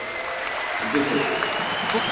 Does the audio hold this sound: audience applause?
yes